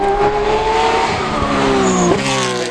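Porsche 997 GT3 R Evo race car at Goodwood Motor Circuit: loud, close engine holding a steady high pitch, then dropping sharply with a downshift, with tyre noise and a brief squeal.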